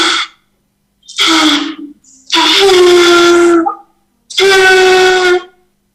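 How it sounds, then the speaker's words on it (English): A stretched balloon membrane used as a toy sound experiment produces three long, loud, buzzing tonal blasts after a brief opening burst, each separated by silence and heard alone without talk. "This is one of the sound experiment. This is a stretched member of the balloon. You can see a beautiful noise"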